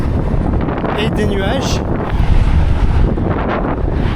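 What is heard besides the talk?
strong headwind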